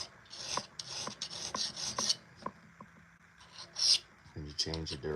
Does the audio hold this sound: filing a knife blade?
yes